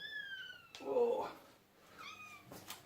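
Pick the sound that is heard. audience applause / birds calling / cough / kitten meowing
kitten meowing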